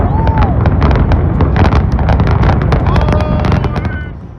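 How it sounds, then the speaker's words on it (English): The 70-year-old Tropicana casino in Las Vegas is demolished. A loud, rapid volley of blasts and crackling detonations rolls on for several seconds before fading. "The Tropicana in Las Vegas collapses, taking with it a piece of the city's legacy."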